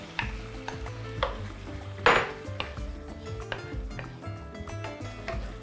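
Marinade poured onto onions cooking with spices in a pan, while trout with vegetables is being made: a loud sizzle bursts up over steady frying, with stirring and clinks of utensil on the pan throughout.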